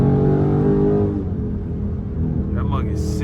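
Straight-piped Dodge Scat Pack muscle car with a loud, close engine drone that eases slightly partway through, heard from inside the car without talk.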